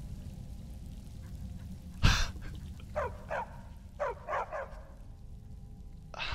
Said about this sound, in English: Have we inherited another dog?